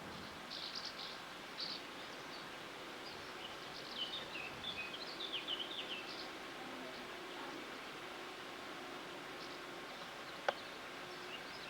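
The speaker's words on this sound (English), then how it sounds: "Listen to the birds." Faint outdoor ambience in the mountains of Germany with scattered bird chirps and calls in the distance, a steady cassette-like background hiss, and one brief sharp tick near the end.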